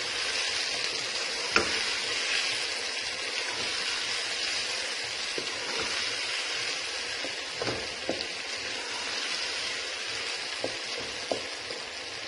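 Chicken macaroni ingredients with salt sizzle and fry steadily in a pan, a continuous close hiss broken by a few light clicks of stirring, with no voices.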